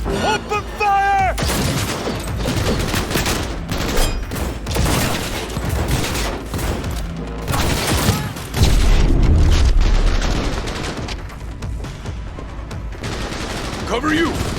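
Sustained gunfire in a Cyberpunk 2077 firefight: dense bursts of automatic fire and heavy booming shots, loud and continuous throughout, with shouted voices mixed in among the shooting.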